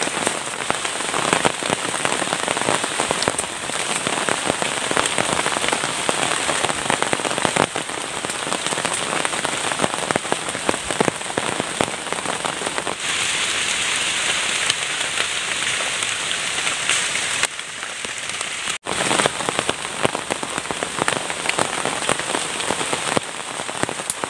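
Heavy tropical rain pours down at a campsite while a plastic shelter is being built, a loud, unbroken hiss of dense drops pattering on the surfaces around, with a few sharper knocks breaking in.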